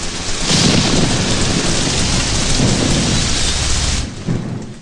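A heavy thunderstorm roars with loud thunder rumbling over pouring rain, the downpour swelling for several seconds before easing near the end, with no one speaking.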